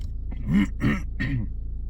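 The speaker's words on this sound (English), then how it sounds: "Sorry about coughing" Three harsh coughs in quick succession, close by, each a short throaty burst with brief gaps between.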